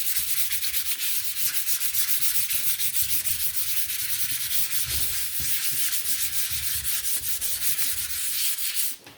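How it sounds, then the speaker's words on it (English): Steady abrasive rubbing of sandpaper over a painted round wooden sign, continuous and close with a fast back-and-forth rhythm throughout, stopping abruptly at the very end; no voices. "I'm just going to give it a quick sand."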